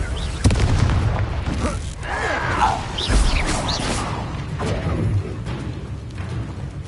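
Magical Confringo fire-spell blasts from Hogwarts Legacy on PS5 boom and crash amid combat rumble, with several loud impacts and bursts spread over the fight.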